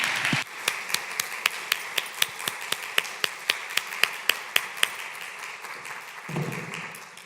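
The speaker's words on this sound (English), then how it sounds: "Please join me in giving Justice Langmyers and Ellen and James a huge round of applause" Guests are applauded after a legal interview event with Justice Liz Lang Miers. The clapping is crisp, sparse and evenly paced, sounding like only a few hands, and it stops abruptly before a low thump.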